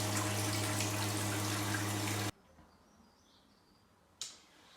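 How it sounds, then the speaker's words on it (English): Loud rushing water pours steadily for about two seconds as a loft cold-water storage tank drains, then cuts off abruptly, leaving a quiet hiss before a brief splash near the end. "now I've got to empty the cold storage tank that's in the loft"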